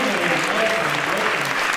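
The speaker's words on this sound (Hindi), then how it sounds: "तालियां आप लोगों की बजती रहनी चाहिए" An audience at a Hindi comic poetry recital breaks into dense, sustained clapping, loud and even throughout the short stretch.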